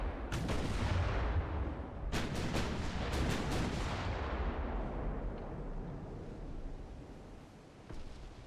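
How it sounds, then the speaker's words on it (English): Heavy naval guns boom in Ultimate Admiral: Dreadnoughts naval combat, with several loud, close salvos in quick succession. Each blast leaves a long rumbling roar that slowly fades. "We've got 8 guns firing at them."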